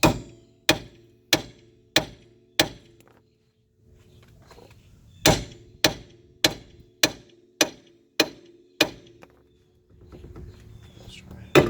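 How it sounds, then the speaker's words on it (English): Hammer strikes ring out sharp and metallic against a rusted lower ball joint on a 2002 Jeep Liberty. Two quick runs of about five and six evenly spaced blows come up close, with a short pause and faint shuffling between the runs. "we also got to hit that with the hammer, knock it loose"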